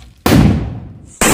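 A Diwali firecracker, set off from a distance with a safety device, bursts in a sharp, loud bang that rings out and decays, and a second blast follows about a second later.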